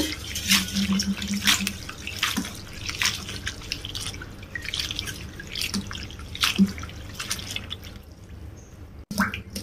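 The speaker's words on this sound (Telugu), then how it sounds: "ఒకటికి 2 సార్లు మంచిగా వాటర్లో కడగాలి" Close-up sloshing and dripping as chopped mint leaves are swished in water, coming in repeated splashy bursts with short gaps, ending in an abrupt clunk.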